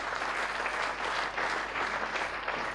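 Dense audience applause at a regional sports gala, a continuous wash of many hands clapping at a moderate, steady level with no talk over it.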